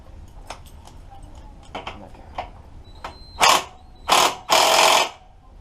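An impact wrench works on a wheel of a 1983 Honda Shadow 750 motorcycle. First come light ratcheting clicks, then three loud, close, buzzing bursts of about half a second each.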